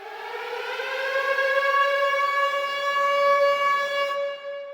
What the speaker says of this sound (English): I got this riser, like it's a sound effect riser.